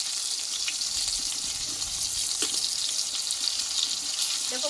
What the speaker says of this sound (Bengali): এইভাবে উল্টিয়ে পাল্টিয়ে কিন্তু দুইভাবে পটলটাকে ভেজে নিতে হবে